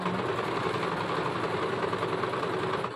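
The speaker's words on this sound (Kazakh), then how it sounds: "Тігіп жатырмын строчкасын." Sewing machine running steadily while stitching a seam on white fabric for an Uzbek-style garment, a continuous close mechanical whir with fine rapid needle rhythm, alone without talk.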